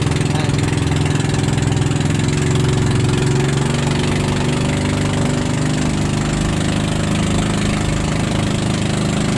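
Fishing boat engine running flat out at full throttle on open sea, a steady loud droning roar with strong low harmonics that holds without a break.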